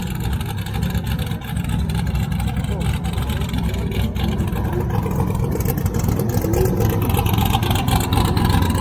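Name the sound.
modified nitrous car engine revving at full throttle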